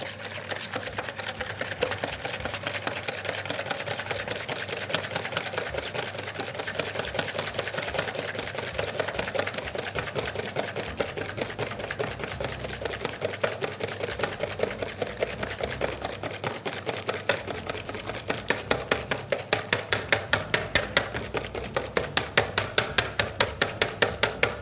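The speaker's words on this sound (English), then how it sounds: "And now with a whisk, I'm going to whisk until I have something nice and stiff." Double cream and sugar being whisked by hand until stiff, a rapid steady clatter of the whisk against the bowl that grows more sharply rhythmic toward the end.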